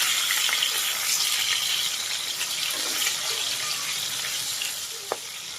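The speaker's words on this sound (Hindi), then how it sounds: "मीडियम टू हाई फ्लेम में मछलियों को अच्छी तरह से क्रिस्पली फ्राई कर लेंगे" Pomfret fish shallow-frying crisply in oil over medium-high heat, giving an even, bright sizzle close up that runs throughout, with one small clink near the end.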